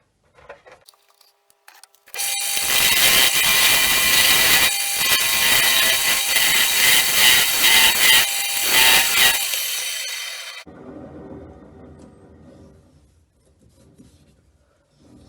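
Wood lathe fitted as a disc sander rounding off a wooden piece, a loud steady abrasive whir lasting about eight seconds that starts abruptly and cuts off, followed by a quiet motor hum winding down.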